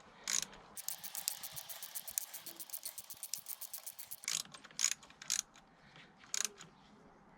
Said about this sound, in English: So I've got a 4mm Allen bit on a ratchet here, makes it a little bit easier.